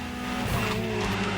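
A Ferrari supercar races in The Crew Motorfest, its engine roaring loud and close while the tires squeal and skid through a fast maneuver.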